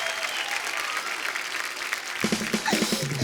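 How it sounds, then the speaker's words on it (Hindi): A studio audience claps loudly and steadily, and the applause carries on as a voice begins to speak over it toward the end. "जोरदार तालियां पाजी प्लीज"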